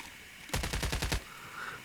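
An SKS rifle fires a rapid burst of about seven sharp shots in Call of Duty Mobile, loud and punchy in close succession, followed by a short lull of game ambience.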